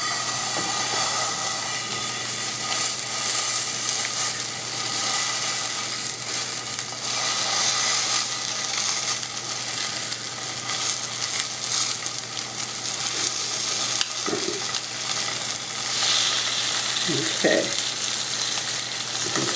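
Sausage sizzling steadily as it fries in a pan for a Christmas breakfast casserole, a constant broad hiss that stays close and fairly loud throughout, with a few faint clunks and no voices.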